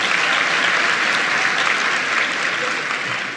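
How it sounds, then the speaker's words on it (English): An audience at a ceremony with performances breaks into sustained, dense applause. The clapping is loud and even throughout, then eases slightly toward the end. "Give them a big round of applause."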